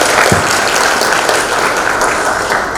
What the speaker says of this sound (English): want a big applause for her also.